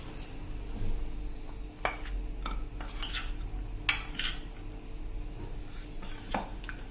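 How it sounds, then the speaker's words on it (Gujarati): Peanut bhujia, a fried gram-flour and peanut snack, is tossed and mixed in a metal bowl or pan, making faint, scattered clinks and rustling scrapes over a steady low hum. "હવે એને આપણે આમ રીતે ટોસ કરીને પણ સરખું મિક્સ કરી લેશું."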